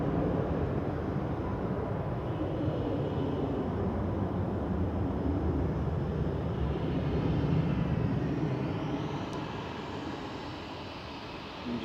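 Rolls-Royce RB211-powered jet passing overhead near Manchester Airport: a steady, broad engine roar with a thin high whine on top, loud and sustained throughout, easing slightly toward the end, with no voices.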